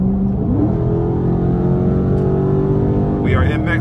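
A straight-piped Dodge Charger Scat Pack drones loudly with a steady exhaust note while cruising on a highway, then rises briefly toward the end as the throttle opens. Voices talk over the engine.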